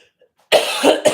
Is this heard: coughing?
yes